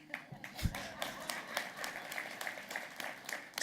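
Scattered clapping from a small crowd at a gala, a few sharp claps standing out over a steady patter of applause at moderate distance.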